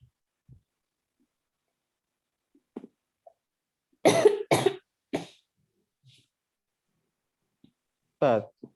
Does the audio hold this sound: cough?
yes